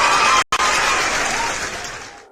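A short burst of crowd cheering and applause, loud and close, cut by a brief dropout before resuming and fading out toward the end.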